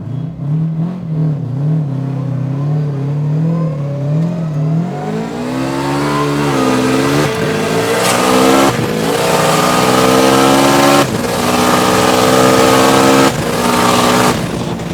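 A Subaru WRX engine rumbles loudly up close during a roll race, its pitch climbing steadily as it revs and accelerates, with a few sharp shifts along the way.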